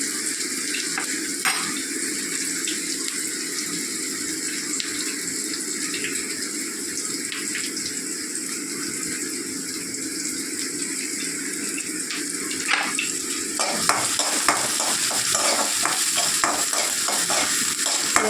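Onions and coconut sauté in a pan with a constant loud hiss and sizzle, and toward the end a run of quick scraping and tapping stirs rises over the steady frying.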